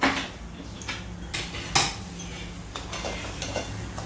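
Fried dry fruits are stirred into sheera in a metal pan, giving close, repeated scraping and clinking of a spoon against the pan in an uneven rhythm, with no one talking.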